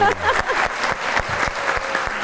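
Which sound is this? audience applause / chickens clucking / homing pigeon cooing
audience applause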